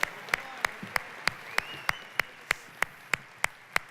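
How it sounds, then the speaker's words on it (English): A rally audience claps in a steady, evenly spaced rhythm, about thirteen crisp, moderately close claps over four seconds against a soft room murmur, with no talking. "give them a round of applause again"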